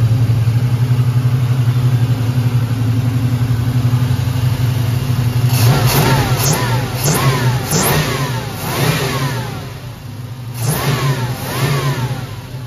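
A 1987 El Camino's 383 V8 with Holley Sniper EFI idles with a low steady rumble, then revs hard several times in quick sweeping bursts, loud and close.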